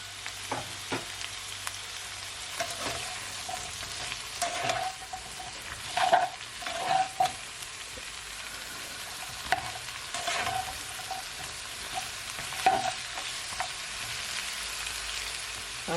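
Vegetables and baby corn stir frying in a pan, a steady sizzle with scraping stirs and occasional clinks of a utensil, close up and with no talking.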